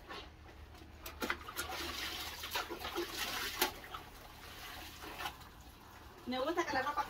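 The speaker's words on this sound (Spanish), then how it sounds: "yo estoy acostumbrada a lavar así con bastante agua" Clothes are hand-washed with plenty of water, producing steady splashing, sloshing and wringing sounds with occasional louder splashes, continuing fairly close throughout.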